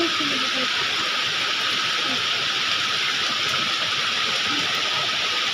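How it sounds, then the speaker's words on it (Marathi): Steady, dense hiss of rain falling continuously, even and unbroken throughout. "आता आलं तर काय इथं पाऊसच यायला लागलाय"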